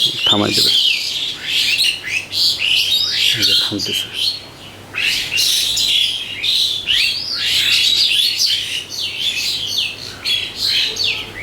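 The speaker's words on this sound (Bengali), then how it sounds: "পাখিদের মধ্যে ঝগড়া লাগছে পানি খাওয়া নিয়ে" Several birds squabbling over drinking water, loud close chirps, tweets and harsh squawks overlapping almost continuously, with occasional brief human voices in the background.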